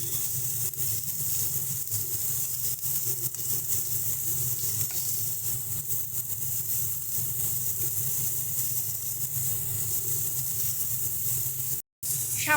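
Spices frying with potato and onion for a broad bean seed curry, a continuous dense sizzle with faint stirring scrapes, close and steady, briefly dropping out near the end, with no voices.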